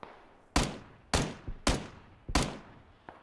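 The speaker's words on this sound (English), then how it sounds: "There's guys to our left shooting us as well" Gunfire in the video game PUBG: four sharp, loud shots spaced about half a second apart, with a few fainter pops between them and a last softer crack at the end.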